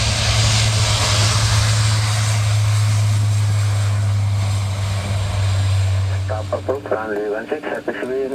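A propeller aircraft engine drones with a steady low hum at close range for about seven seconds before it eases off and radio-style speech takes over.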